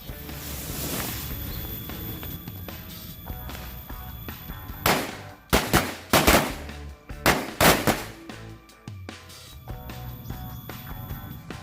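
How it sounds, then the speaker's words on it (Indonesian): Black Corsair firecrackers go off in a rapid cluster of sharp, loud cracks and pops, a rattling burst in the middle that stands out over steady background noise. "selanjutnya ini mercon korek corsair warna hitam"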